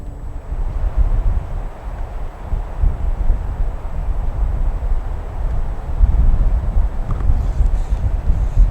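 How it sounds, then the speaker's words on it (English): Steady, loud wind buffeting the outdoors at an air rifle shooting range, a low rumbling roar that persists throughout with no clear voices. "it's pretty windy out here"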